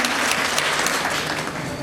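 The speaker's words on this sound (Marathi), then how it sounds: "आमच्या विजयदादांसाठी सुद्धा टाळी झाली पाहिजे." An audience at a kirtan gathering for a death anniversary applauds, a dense and steady round of clapping that fills the whole short stretch.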